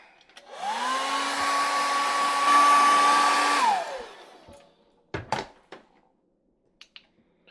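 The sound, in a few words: hair dryer drying a painted homemade fishing lure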